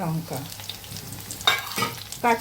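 Bitter greens (beto shak) fry in a pan with garlic and green chilli, giving a steady close sizzle broken by louder crackling bursts as they are stirred.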